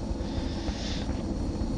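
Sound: helicopter flying in video game XCOM: Enemy Unknown

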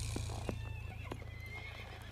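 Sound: horse being ridden

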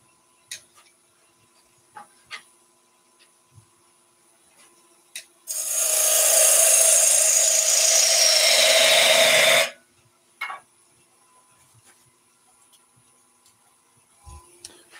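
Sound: wood turning with a small bowl gouge

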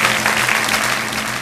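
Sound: audience applause for guest number 17

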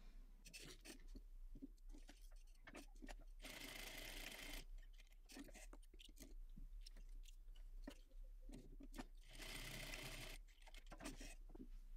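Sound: sewing machine stitching

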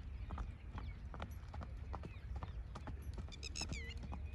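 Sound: horse hooves clip-clopping during single-foot gait training

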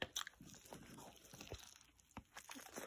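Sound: biting into a double cheeseburger

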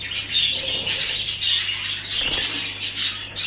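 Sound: pet bird chirping and flapping

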